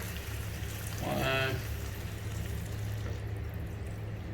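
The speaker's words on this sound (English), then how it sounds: "we have to add about 3 glasses of water" About three glasses of water poured into mutton in a clay pot give a short splashing gush lasting half a second, close and moderately loud over a steady low kitchen hum.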